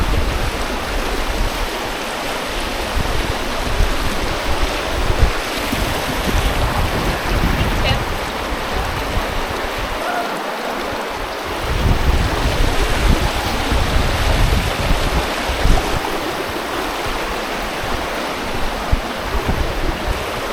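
Steady, roaring rush of fast, rain-swollen river water churning over rocks in the Peak District, continuous and loud throughout, with some wind buffeting the microphone.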